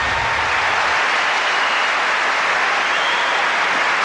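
A tennis crowd at the 2000 US Open final applauds loudly and continuously, a dense, even wash of clapping that fills the whole stretch with no talk over it.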